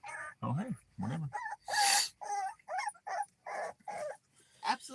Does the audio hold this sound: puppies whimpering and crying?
yes